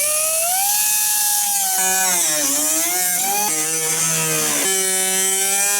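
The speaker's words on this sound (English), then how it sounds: "drilling the holes out bigger for the base plates." A drill bores larger holes for bumper base plates on a crashed Honda S2000. The whine is loud, close and continuous, and its pitch rises and dips as the bit bites.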